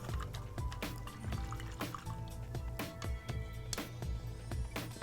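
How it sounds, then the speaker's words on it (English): A paintbrush swished and tapped in a water jar, repeated liquid sloshes and clinks against the glass in an irregular rhythm, close and fairly quiet. "Rinse our brush off."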